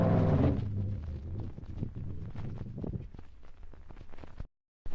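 A mechanic warms up the 3.5-litre engine of Phil Hill's Ferrari race car in the pits, a loud low rumble at the start easing into a busy, uneven engine drone with sharp blips, cutting out briefly near the end.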